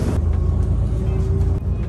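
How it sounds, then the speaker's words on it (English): Inside a bus riding through Finland, a steady low road and engine rumble with faint rattles, close and continuous. "First bus ride in Finland."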